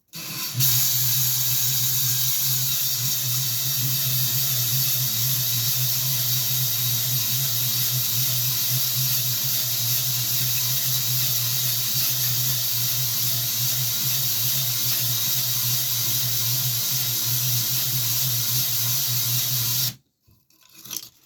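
A steady, continuous abrasive hiss with a low hum beneath it, as medium-grit stones hone the cylinder liner of a 170F petrol engine, running unbroken for about twenty seconds before stopping abruptly.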